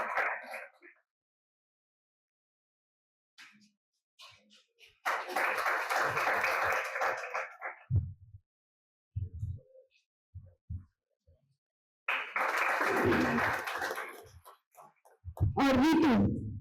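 At an Independence Day celebration, an audience breaks into two bursts of clapping, each lasting a few seconds, with quiet gaps and brief voices and thumps between them.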